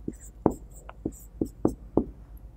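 Marker or chalk strokes on a board during a lecture on database normalization, a handful of short taps and scratches in an irregular rhythm, close and clear with no speech.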